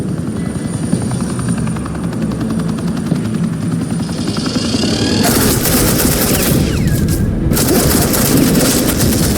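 Sustained automatic gunfire laying down suppressing fire in Batman: The Telltale Series, loud and continuous over a helicopter's thudding rotor drone, without talking during the burst.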